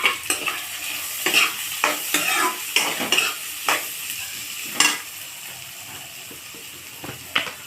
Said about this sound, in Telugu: ఉల్లిపాయలు ఇలా వేసేయాలి